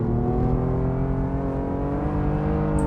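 A BMW M4 from 2015 slides around the Nordschleife in the racing game Assetto Corsa, its engine holding a steady, loud, dense drone with layered harmonics that barely changes pitch, heard alone with no voices.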